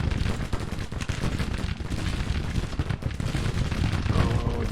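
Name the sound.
gunfire in Grand Tactician Civil War video game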